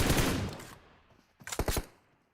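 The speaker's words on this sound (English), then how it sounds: "The shots flying up into the vehicle." Gunfire in a video game match: one long burst of automatic fire, then a pause and a second short, rapid cluster of shots, loud and close.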